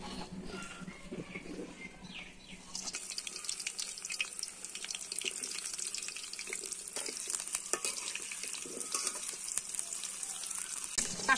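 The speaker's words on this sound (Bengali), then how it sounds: "এখন কাঁঠালগুলো ভেজে নিব।" Raw jackfruit pieces dropped into hot oil in a kadai: a quieter start gives way to loud, steady hissing sizzle with crackles and a few utensil knocks, continuing without speech.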